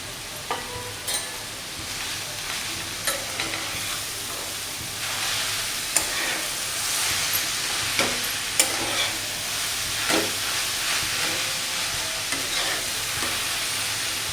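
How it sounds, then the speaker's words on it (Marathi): Raw mango pieces sauté in ghee in a pan, a continuous close hiss and sizzle broken by frequent small scrapes and clicks as the pieces are stirred. "हा पण कैरीचा पीस पण तुपामध्ये चांगला परतून घेऊया"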